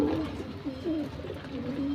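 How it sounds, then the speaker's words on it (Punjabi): Pigeons kept for flying coo inside a loft, soft repeated throaty calls close by over a low murmur of background noise. "ਇਹ ਆਪਣੇ ਉਡਾਈ ਵਾਲੇ ਕਬੂਤਰ ਹੈਗੇ ਨੇ"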